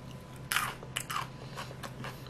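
Crisp bites into a raw elephant garlic clove, followed by a few crunchy chews, close to the mic with no talking and a steady low hum underneath.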